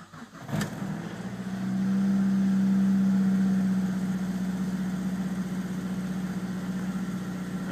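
A Mazdaspeed engine, just fitted with a new fuel pressure relief valve, cranks briefly and catches, then settles into a steady, even idle that holds close by with no talk.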